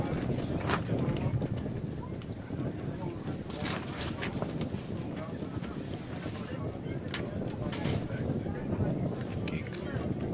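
Strong wind buffets the microphone on a coastal rugby field during a match at Warfish Bay, a steady roaring gusting rush that runs throughout with faint sharp knocks.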